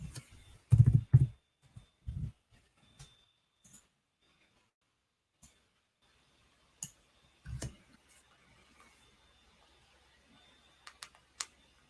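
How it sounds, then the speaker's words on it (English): Computer keyboard typing at a trading desk during a live forex session, heard as sparse, irregular soft clicks and a few dull low taps, close and quiet, with long pauses and no talking. "I'm typing this stuff up."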